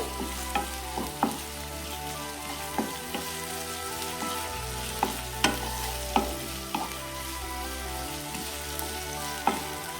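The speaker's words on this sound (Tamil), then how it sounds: "இஞ்சி பூண்டு பேஸ்ட் ஆட் பண்ணி நல்லா பச்சை வாசனை போகிற வரைக்கும் வதக்கி விட்டுக்கோங்க" Onion with ginger-garlic paste sautéing in a pan for a healthy protein-rich gravy, a steady close sizzle broken by repeated sharp scrapes and clinks of a spoon stirring against the metal, with no talking.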